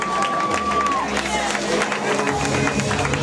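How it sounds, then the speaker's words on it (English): Crowd at a Halloween party clapping and cheering, a loud mix of applause, shouts and chatter with music or tones underneath throughout. "If you want, give her a big round of applause!"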